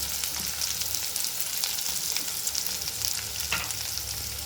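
Big onions and dried red chillies fry in oil with mustard seeds, making a constant close sizzle with light crackles and pops and no talking.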